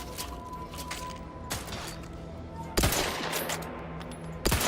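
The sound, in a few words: gunshots at a shooting range in video game The Outer Worlds 2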